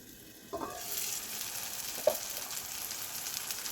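Onion, tomato and spice powder sauté in oil over a low flame in a pan. The soft sizzle starts abruptly after a quiet moment and then holds at a gentle level with one small clack.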